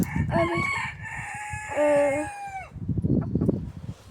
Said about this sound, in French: avec un coq et une poule